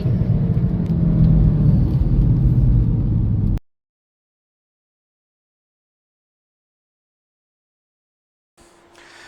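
A VW Golf R MK7.5 fitted with a CTS turbo intake drones with a deep, steady engine rumble and rising whir for several seconds, then cuts abruptly to silence before a faint return at the end.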